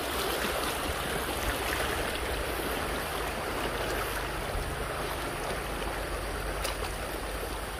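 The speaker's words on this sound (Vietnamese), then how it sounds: "Đấy, cái suối này hay đi bắt cá." Mountain stream rushing over a rocky bed, a loud, steady broadband wash of water that runs unbroken for the whole stretch, with no voices over it.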